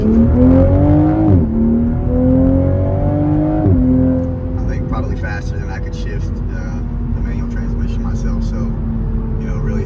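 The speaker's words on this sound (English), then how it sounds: "the exhaust noises are really nice" A 2023 Toyota GR Supra 3.0 Premium revs hard through two quick gear shifts, the exhaust rising and dropping, then settling into a steady roar with road noise.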